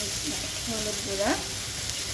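Spices with turmeric fry in a pan for nihari, a steady close sizzle running throughout while a voice briefly speaks over it.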